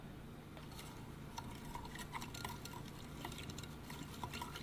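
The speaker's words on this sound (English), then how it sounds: "Here, I'll just stir it." Beer being stirred in a container, soft liquid swirling with faint clinks and taps against the sides, quiet and close.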